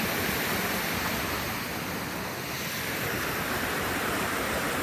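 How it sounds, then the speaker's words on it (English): A waterfall on Big Wilson Creek rushes in a continuous, dense wash of broadband noise, steady and fairly near, with no voices. "See the waterfall through the creek."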